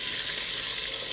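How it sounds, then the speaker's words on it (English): Onions and garlic sweat in a little oil in a pot, giving a close, continuous sizzling hiss that holds steady for the brief moment with no talk. "sweat the onions and garlic a little bit."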